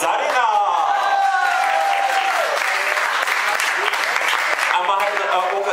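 Dense, loud audience applause fills a full house at a live entertainment show, steady throughout with whoops and voices mixed in the crowd.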